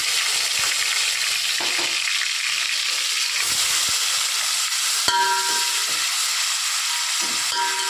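Ginger garlic paste and garam masala fry in hot oil for chicken biryani, giving a loud, unbroken sizzle and hiss with a few faint stirring clicks and no voices.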